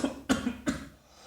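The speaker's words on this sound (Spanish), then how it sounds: "traigo un poco de tos" Two sharp, close coughs about a third of a second apart, from a person who has a slight cough, with a faint throaty rasp trailing off into quiet.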